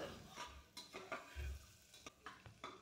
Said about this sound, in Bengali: সব কিছু আমি নাড়াচাড়া করতে থাকবো 2 মিনিটের মতো।